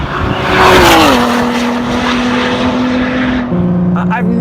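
A 2017 Ford GT with a V6 engine roars loudly while driving, a strong sustained engine drone whose pitch drops as it shifts, then steps down again near the end.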